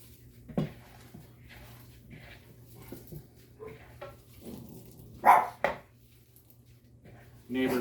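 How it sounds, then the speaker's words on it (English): A neighbor's dog barks in short separate bursts against a steady low hum, a few louder yelps standing out near the end, while ginger-scented pork wonton filling is being prepared in a home kitchen. "Neighbor's dog is barking"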